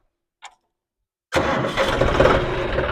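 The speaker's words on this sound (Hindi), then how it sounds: "तो हमने ट्रैक्टर को दोबारा से किया स्टार्ट।" A tractor engine is restarted: a faint click, a short silence, then the engine catches suddenly and keeps running loud and rough.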